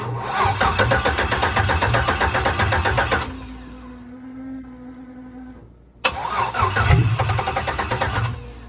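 A 1969 Buick 225 with a swapped LS engine, low on old gas, cranks and fires up loudly, runs, drops to a quieter lull with a steady hum, then roars back to life and keeps running up close.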